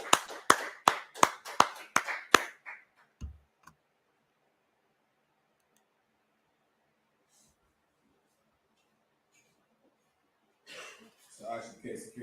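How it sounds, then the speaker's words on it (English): A few people clapping for a speaker at a street gathering in Harlem, New York: about eight sharp, evenly spaced claps up close, then near silence before voices begin at the end. "Clap it up for that brother."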